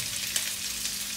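Onion and bell pepper fry in a pan over medium heat with ginger and garlic, a brief, even sizzle with a faint tap partway through and no voices.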